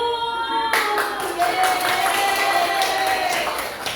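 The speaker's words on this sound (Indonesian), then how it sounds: "tepuk 2, tepuk 1, tepuk 3, tepuk 1" A classroom of students claps out a counted rhythm pattern, sharp clustered bursts of hand claps arriving in uneven groups after a brief quiet start, with a sustained voice-like tone running underneath.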